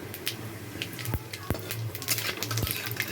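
Bay leaf and white cumin sizzling in hot oil, left over from frying lentil dumplings, with a steady crackle and a few metallic clinks of a spoon stirring in the pan.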